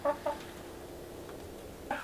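Backyard coop hens, including a Sasso Ivory, give soft clucks: two short calls near the start, then a quiet stretch and one more cluck near the end, close by with no talking.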